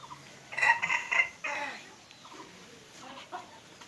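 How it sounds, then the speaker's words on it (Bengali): Free-roaming village chickens cluck and squawk in a short burst of close calls, then quieter clucking continues against an outdoor rural background. "দেখেন গ্রামের মুরগি"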